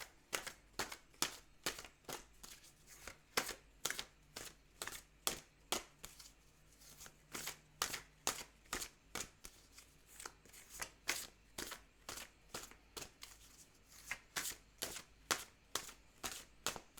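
Deck of tarot cards shuffled over and over, with crisp rhythmic riffles and taps at a steady pace, close and fairly quiet, with no talking.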